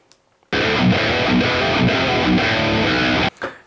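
A thick, heavily distorted electric baritone guitar, a SubZero Paradigm 27-inch, chugs low riffs for about three seconds, then cuts off abruptly into quiet.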